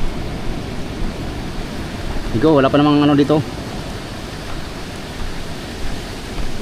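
Big typhoon-driven waves pounding the shore at Dinahican, Infanta, Quezon, a steady roaring wash of surf and wind, with a person briefly speaking over it in the middle.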